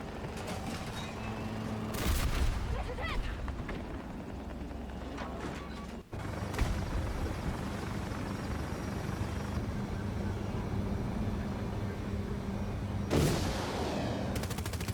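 A helicopter in the video game Battlefield 2042 fires its 30mm cannon in loud, repeated bursts over a constant rotor drone, with a brief pause in the middle.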